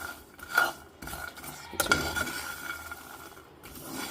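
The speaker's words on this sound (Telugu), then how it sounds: "నువ్వులు కూడా వేసేస్తున్నా నువ్వులు బాగా చిట అనే వరకు వేయించాలన్నమాట" Peanuts and sesame seeds being dry-roasted in a pan make light scraping and stirring sounds, with intermittent metallic clinks of a spoon against the pan, close and fairly quiet, without speech.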